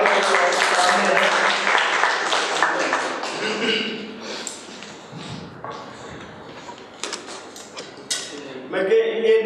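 Audience applause at a speech contest in Youhanabad, dense clapping loud at first, thinning and fading through the middle, then swelling again near the end, with voices mixed in.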